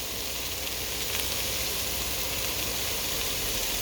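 Ground turkey browning in a pan on the stove gives a steady, close sizzle and hiss that stays even throughout, with no talk over it.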